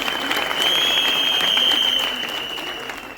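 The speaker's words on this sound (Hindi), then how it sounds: "तालियां होनी चाहिए" An audience at a film event applauds, a dense and loud wash of clapping that swells and then tapers, with a faint high tone ringing through it.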